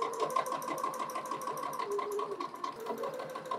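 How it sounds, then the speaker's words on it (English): A sewing machine stitches a bodice side seam in a rapid, even run of needle strokes, a quiet close mechanical whir with a steady rhythmic chatter. "we'll just pin the side seam and stitch"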